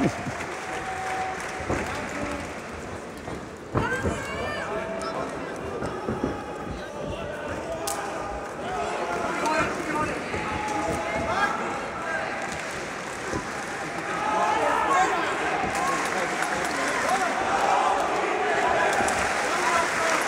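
The audience at an OKTAGON 6 MMA fight, Jozef Wittner vs. Kamil Cibinski, cheers and claps in a broad, continuous crowd roar that swells louder toward the end, under steady commentary.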